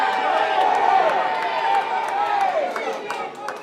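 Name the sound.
wrestling crowd cheering and clapping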